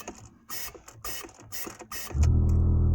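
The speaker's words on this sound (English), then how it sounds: "And the compressor kicks back on." An air compressor used on a vehicle's air suspension kicks back on, a steady low motor drone starting partway through after a run of rhythmic clicking mechanical noises.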